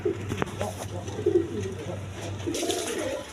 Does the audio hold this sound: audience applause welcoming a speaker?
no